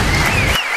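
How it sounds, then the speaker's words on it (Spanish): A short burst of applause in the video game God of War: Chains of Olympus, broadband and steady, cutting off abruptly before a brief quiet tail. "Un aplauso, por favor."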